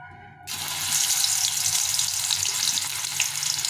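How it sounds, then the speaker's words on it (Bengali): Homemade potato chips frying in very hot oil make a steady, loud sizzle that rises suddenly and then hisses on continuously, with no talking. "এখন এই বাকিগুলো ভেজে নেব।"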